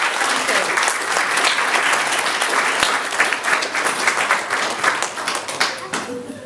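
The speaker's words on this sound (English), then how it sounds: "let's give him a big round of applause because he's done a great job" Wedding guests applaud the young ring bearer, Philip. The applause is loud and sustained, with many hands clapping, and it tapers off near the end.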